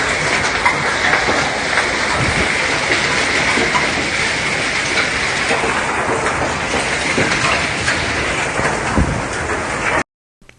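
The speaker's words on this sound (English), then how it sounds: "there's legit hail action there" Dense, steady hail batters surfaces through a thunderstorm in Egypt, a loud continuous rattling roar that carries on for about ten seconds before cutting off abruptly.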